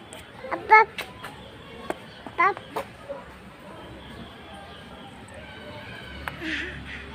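Chickens clucking in an enclosure at Siantar Zoo, a few short close calls in bursts over a quiet outdoor background, with people talking nearby.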